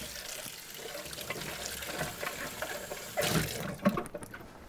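Water runs from a tap to rinse out a used wine bottle, a soft steady splashing and trickling with a slightly louder gush near the end, fairly quiet and close.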